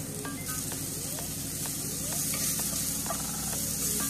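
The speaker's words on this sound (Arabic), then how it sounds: "منترك كمان المشروم تقريبا شي دقيقتين مع البصل لحتى يدبل" Mushrooms and onions sauté in a pan with a steady, dense sizzle throughout and a few light utensil scrapes on top, close by and with no talking.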